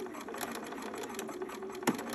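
A sewing machine runs steadily at close range while basting the upper edges of fabric for a cami tank top, a soft continuous hum ending in a sharp clack.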